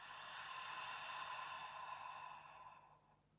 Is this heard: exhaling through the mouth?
yes